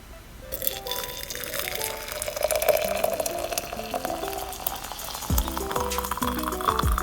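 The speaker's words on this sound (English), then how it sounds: "from here I'm just gonna pour in some boiling water." Boiling water is poured over rosemary and lavender, with a continuous splashing, bubbling liquid sound and a rising gurgle as the container fills, close and moderately quiet.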